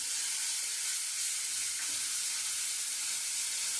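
Chopped onions hit hot oil with dried red chilli already in the pan, giving a loud, dense, even sizzle that holds steady throughout without talk.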